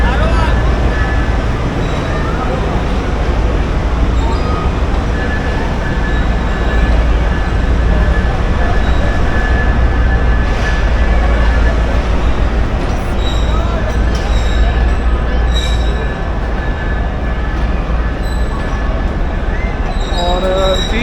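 The Faiz Ahmed Faiz 209 passenger train runs with a continuous loud rumble of wheels on rails, a deep low drone and occasional thin squeals. The noise stays steady throughout, close and sustained.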